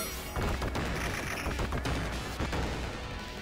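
Guns in the classic TMNT arcade game fire in rapid bursts of sharp cracks and booms, loud and dense throughout, with no talk.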